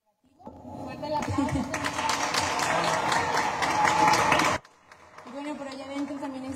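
Applause from an audience at the presentation of candidates for ambassador of the Feria Nacional Potosina, a few seconds of steady clapping that stops abruptly, followed by a quieter stretch.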